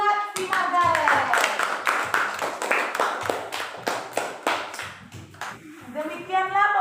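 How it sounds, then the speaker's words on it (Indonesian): A classroom of children claps for a student named Margaret, a lively burst of hand clapping under a teacher's voice that keeps talking over it. "Tepuk tangan buat si Margaret."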